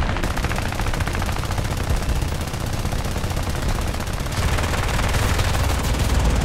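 Rapid, sustained machine-gun fire from a J6B fighter in War Thunder's air arcade mode, a dense, unbroken rattle at close range that runs the whole time with engine roar underneath and no pauses.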